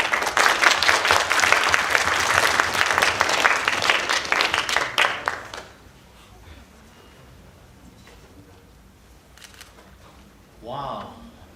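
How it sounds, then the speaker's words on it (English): An audience at a 2021 youth empowerment awards ceremony gives Dr. Su a dense round of clapping for about five seconds. It then drops to quiet room noise, and a brief voice is heard near the end. "Let's give Dr. Su a round of applause as he introduces this award."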